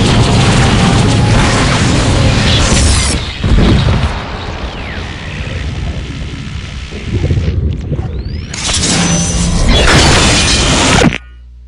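Explosions boom and shatter as the monolith is destroyed in the strategy game Dawn of War: Dark Crusade, with loud, dense blasts and debris almost throughout, a short lull, then another heavy burst before it cuts off.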